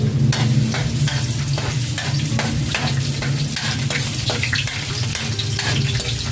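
Garlic frying in a pan for a Filipino bangus dish, a steady close sizzle with stirring and scraping clatter running throughout.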